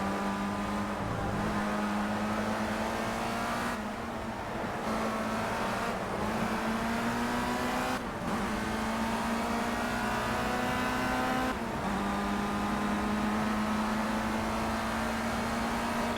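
Race car engines from the racing video game Project CARS roar steadily and loudly throughout, with sustained high-revving drone, brief dips at gear shifts or braking, and several cars running close together.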